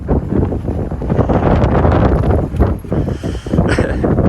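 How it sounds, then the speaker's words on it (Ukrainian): Strong, gusty winter wind roars and buffets the microphone continuously at a fishing camp, with a steady low rumble and rushing noise throughout. "Ну вітер просто ураган."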